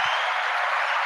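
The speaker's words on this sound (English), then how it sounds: "So let's give them a nice big round of applause." Studio audience applause on a morning show, a steady wash of clapping that fills the short moment alone without talk.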